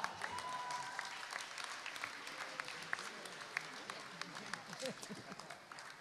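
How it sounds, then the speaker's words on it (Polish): Applause from an audience greeting a band on stage at a Polish music competition stage event, a steady wash of clapping at moderate distance with faint voices mixed in throughout. "Brawa, duże brawa."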